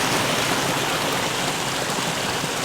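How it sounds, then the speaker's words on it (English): Floodwater from seasonal rains rushes down a creek line into a farm dam, a dense, steady hiss of flowing water heard close and loud throughout. "the water is just flowing like all over here. It's just coming in down this line, creek line, and then into the dam"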